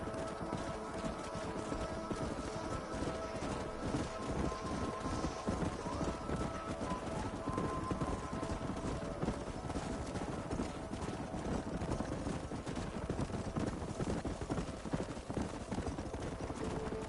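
Horses' hooves clip-clopping in the Western video game Red Dead Redemption, a steady, continuous patter of many hooves during a horse drive, with faint game ambience and no talk.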